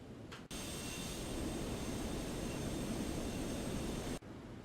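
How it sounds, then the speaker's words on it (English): Concorde afterburners roar during takeoff in the X-Plane 12 flight simulator, a steady broadband rushing engine noise sustained for a few seconds at modest level with no talk over it. "All afterburners are lit."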